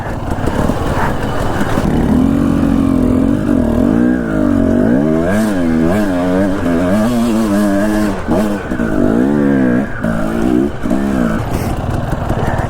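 An off-road motorcycle on a winter ride in rocky Idaho terrain revs hard and continuously, its pitch rising and falling in waves as the rear tire slips for traction, loud and close throughout.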